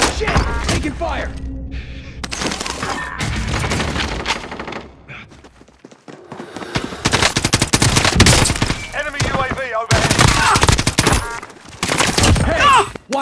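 Call of Duty Warzone gunfire on Rebirth Island rattles in loud, dense automatic bursts and single cracks, with brief pauses between volleys, while a player's voice is heard amid the shooting.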